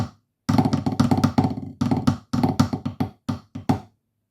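Sticks on a practice drum pad playing two Illawalla sections from a marine snare solo back to back: rapid dry taps in bursts and short rolls, close and steady, with brief gaps between phrases and no voice.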